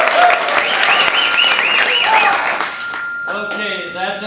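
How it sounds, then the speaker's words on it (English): Party guests applaud in a dense burst of clapping for about three seconds, then the clapping thins as voices and cheering come through near the end. "By applause, would you like to see a little juggling?"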